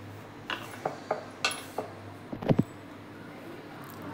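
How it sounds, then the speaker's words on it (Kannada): Onion, carrot and coriander leaves being mixed with spices in a bowl for pani puri filling, giving a few scattered spoon clinks and scrapes against the bowl, fairly quiet and spaced apart with no talking. "ಇಷ್ಟನ್ನು ಈಗ ಮಿಕ್ಸ್ ಮಾಡ್ಕೋತಾ ಇದ್ದೀನಿ."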